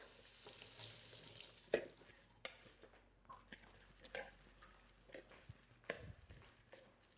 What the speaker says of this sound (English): Here's a spoon, give that a stir.